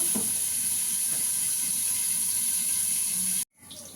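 Pointed gourd (potol) pieces frying in oil in a pan, giving a steady, loud broadband sizzle that runs unbroken before cutting off abruptly near the end.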